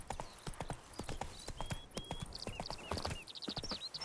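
Geralt's horse Roach clip-clopping along a road in The Witcher 3, a steady close rhythm of hoofbeats over birdsong and light ambient chatter.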